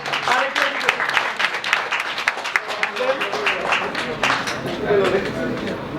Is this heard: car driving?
no